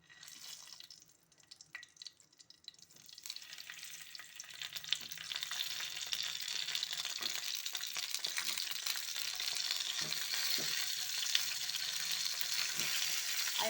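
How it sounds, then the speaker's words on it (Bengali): Ripe pointed gourd (potol) fries in hot oil, beginning quietly and then breaking into a loud, steady sizzle and crackle that carries on close up to the end. "এবার আস্তে আস্তে উল্টিয়ে পাল্টিয়ে ভেজে নেব।"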